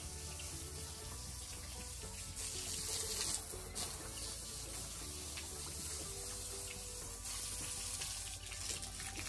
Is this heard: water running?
yes